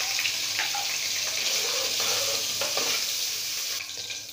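Cumin seeds and ginger-garlic paste fry in hot oil in a pan for a chickpea curry, giving a soft, continuous crackling sizzle with occasional stirring clatter, heard alone and fairly quiet.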